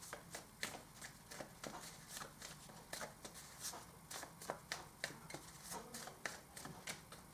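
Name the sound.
shuffling oracle cards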